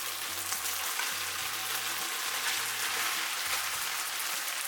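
Rice and tomato sauce frying in a pan for tomato fried rice, a constant hissing sizzle like light rain, moderately quiet and close, without any speech.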